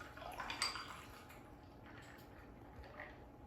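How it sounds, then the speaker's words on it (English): Dissolved instant coffee is poured over ice cubes in a cup, giving a faint, brief splash and trickle with a light clink near the start, then quiet. "So let's just pour it over ice."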